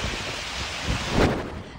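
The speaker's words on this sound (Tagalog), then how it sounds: "Ang hangin ng bagyo ramdam din sa Sarat, Ilocos Norte." Typhoon wind roaring through Sarat, Ilocos Norte, a steady broadband rush of moderate loudness that swells briefly into a stronger gust near the end.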